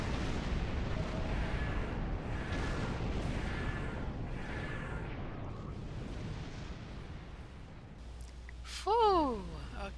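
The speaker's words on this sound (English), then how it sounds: "I better shoot back. Fire, temporal destabilization." Starship weapons firing during a Star Trek Online skirmish: a sustained barrage of booming, rumbling blasts that slowly fades, then a brief swelling whine near the end.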